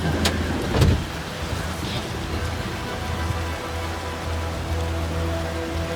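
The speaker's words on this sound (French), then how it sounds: "il pleut tellement qu'il y a de l'eau qui s'est accumulée" Heavy rain drums steadily on a car, a dense constant hiss with a low engine hum beneath and a couple of louder thumps near the start.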